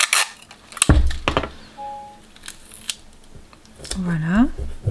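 A few sharp snips of scissors cutting paper, close up, between clatter and handling noises, with a short chirpy tone near the end.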